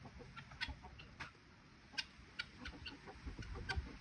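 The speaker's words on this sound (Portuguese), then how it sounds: "Lá vem a galinha." Chickens cluck in short, scattered calls over a low rumbling background, nearby and fairly faint, with several birds chiming in on a farmyard.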